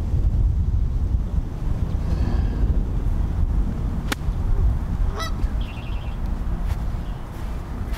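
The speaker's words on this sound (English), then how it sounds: "It's like Tiger at the Masters, you know, with all these geese." Geese honking on a golf course, several scattered calls rising over heavy wind buffeting the microphone, some sharp and close, others fainter in the distance.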